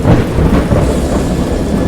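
A deep, rolling rumble of thunder mixed with heavy rain in a video game, loud and close, filling the moment without any voices.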